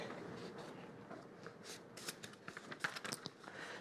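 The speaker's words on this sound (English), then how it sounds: "page turning." Pages turn in a quiet room, making soft, close papery rustles and a few sharper flicks and crinkles that cluster toward the end.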